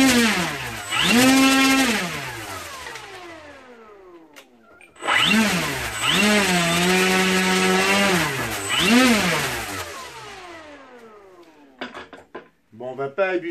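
Brushless electric motor and propeller of an FMS Ranger 1800 RC plane on a 6S upgrade run up on the bench, a loud whining drone sweeping up and down in pitch over two long bursts, then sputtering clicks as it winds down.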